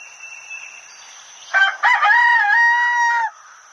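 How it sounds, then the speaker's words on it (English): A rooster crows loudly nearby, a single full cock-a-doodle-doo with a clipped start and a long held final note, with nothing else in the foreground. "rooster,"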